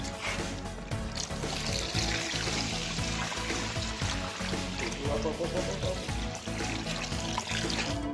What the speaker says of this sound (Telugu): మనం ఉడకడానికి సరిపడా వాటర్ పోస్తున్నాం